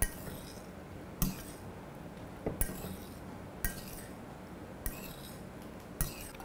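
Bread pieces mixed with egg in a bowl, heard as a steady soft scraping with sharp utensil clinks against the dish at irregular intervals, quiet and close.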